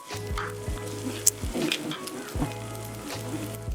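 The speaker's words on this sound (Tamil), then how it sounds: "அதனால தான் நல்லா வெங்காயத்தை வதக்குறோம்" Onions frying in a pan while being stirred, for mutton sukka, with a steady sizzle and a few scraping strokes of a spoon against the pan. A faint low hum runs underneath.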